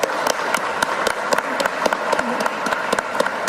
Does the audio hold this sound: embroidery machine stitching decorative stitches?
no